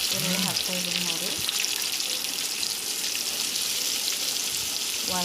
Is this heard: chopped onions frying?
yes